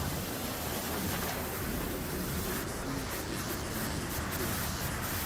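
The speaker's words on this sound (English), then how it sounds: "a massive storm hits, bringing torrential rain and strong winds that sweep everything in its path" Torrential rain and strong winds lashing down in a severe storm, a dense, continuous roaring wash of noise with no breaks and no voices.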